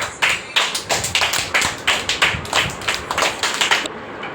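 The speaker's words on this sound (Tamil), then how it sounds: "எல்லோரும் கை தட்டுறாங்க கேக்கு வெட்டுறதுக்கு" A small group claps in a quick, uneven patter for a wedding-anniversary cake cutting at home, close and loud, lasting about four seconds before stopping abruptly.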